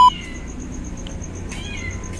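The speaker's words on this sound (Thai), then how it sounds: "มีแมวน้อยตกถังด้วยครับ ได้ยินเสียงห้องปะได้ยินเสียงปะ" A small kitten that has fallen into a trash bin gives a few short, faint meows, spaced apart at near distance against a quiet background hum.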